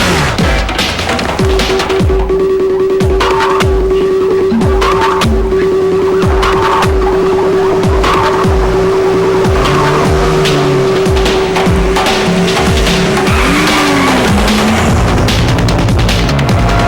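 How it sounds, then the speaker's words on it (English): A Honda Civic engine revs hard and loud without pause, climbing through repeated gear changes while its tires squeal and skid. "Civic, there's a Honda engine."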